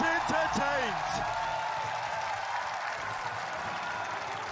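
A large arena crowd at a Valorant esports match in Tokyo roars with steady cheering and applause that stays loud and dense throughout, while a caster talks excitedly over it at the start.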